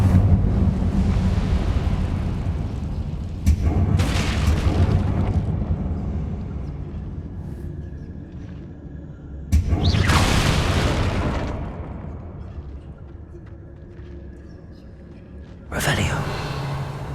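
Incendio fire spells go off in Hogwarts Legacy as repeated booming whooshes, three sharp bursts that each fade slowly over a windy background.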